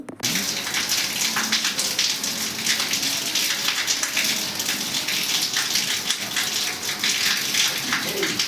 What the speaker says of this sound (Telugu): ఇక తెల్లవారి లేచి బయట వస్తే చూడండి ఇలా పెద్ద వర్షం అండి